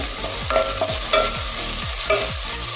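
Carrots, beans and onion fry loudly in a pan for leftover-rice bhat bhaja, a constant sizzling hiss with repeated rhythmic scrapes and knocks of a spatula stirring the vegetables. Nobody talks.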